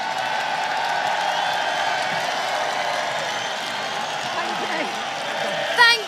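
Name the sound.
protest crowd applause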